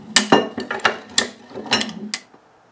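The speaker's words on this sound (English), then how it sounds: "Release this lever back into the down position. That allows these ramps to come down." A recovery jack's lever being released, letting its tapered-tip pins and ramps drop, gives a quick run of sharp metallic clicks and clanks, about eight close knocks over two seconds, with no voices.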